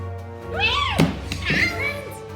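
A child imitates a cat, producing rising and falling meow-like vocal sweeps close up, with a brief breathy burst in the middle and no other voices.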